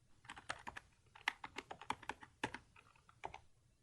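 Keys tapped on a computer keyboard in an irregular run of quick clicks with brief pauses, close but quiet.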